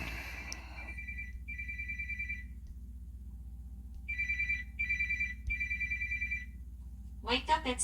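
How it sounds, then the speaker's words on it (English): A mobile phone ringtone rings in two bursts, a short tone pattern followed by a longer repeated trill after a pause, sounding fairly near over a steady low hum, with a voice starting to speak at the end. "my wife's phone is ringing"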